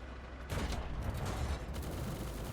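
Challenger 2 tank machine guns firing in a video game, a dense sustained burst of rapid gunfire starting after a brief lull and continuing loud and steady to the end.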